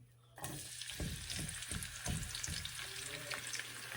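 Garlic, scallion and onion hit hot oil in a pan, a sudden loud sizzle bursting in after a brief quiet moment, then crackling steadily with repeated scraping stir strokes.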